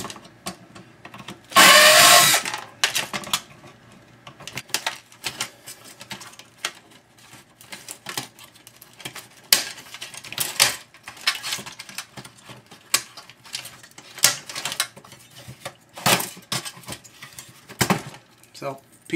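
A DVD player is unscrewed and taken apart by hand, with scattered clicks, rattles and scraping of small parts and boards, one louder clatter early on, then irregular close taps and knocks.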